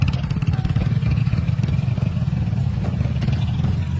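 A motorcycle labors up a steep trail toward Tago Falls in Olongapo City, its engine droning loud and close in a steady, strained mid-range rumble with some clatter throughout.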